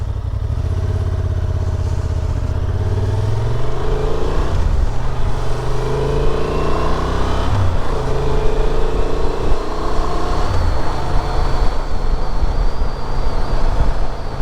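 Motorcycle engine droning steadily while riding along, with a loud low rumble throughout, rising and shifting pitch as the bike accelerates and changes speed, plus wind noise; no talking.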